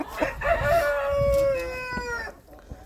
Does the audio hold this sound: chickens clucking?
yes